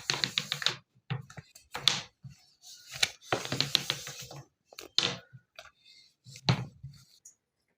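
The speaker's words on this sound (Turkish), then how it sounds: "Önce merdaneyi de sonra incelmesi için oklavayla açıyorum" Rolling pin working thin sheets of homemade baklava dough for a holiday batch, heard as close, irregular dry taps and rolling clatters on the board, in short bursts separated by brief pauses, with no talking.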